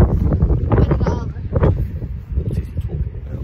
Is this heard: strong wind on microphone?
yes